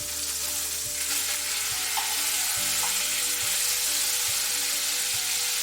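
Beef tenderloin medallions searing in a hot pan, a close, steady sizzle and crackle of fat running unbroken throughout, with a faint low hum underneath and a few soft clicks.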